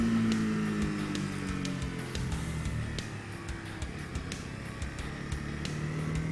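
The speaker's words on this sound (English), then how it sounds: "primarily using downshifting to like slow myself" A Suzuki GSX-R motorcycle engine downshifting to slow down, a steady loud engine drone with shifting pitch and a brief rev dip midway, heard close with wind noise.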